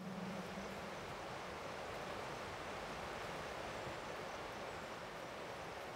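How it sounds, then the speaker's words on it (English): A waterfall in the video game Atomic Heart gives a steady, dense roar of rushing water, unbroken and even throughout, with no other distinct sounds standing out. "That's a nice waterfall."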